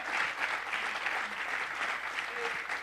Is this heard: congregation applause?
yes